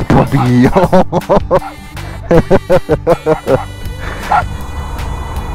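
Excited, high-pitched yips and barks from a dog close by, coming in rapid bursts, then tapering into whimpers.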